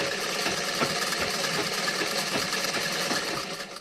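A sewing machine runs steadily, stitching the front part of a blouse, with a continuous close mechanical whir and rapid needle rhythm, easing off slightly at the end.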